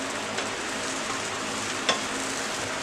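Bread masala is sautéed in a pan, with a continuous close sizzle and faint stirring scrapes under it and one sharper clink near the end. No one speaks.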